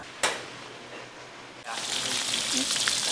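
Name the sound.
pork belly frying in a wok for pickled vegetables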